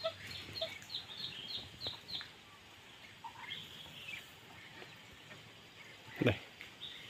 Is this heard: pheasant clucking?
yes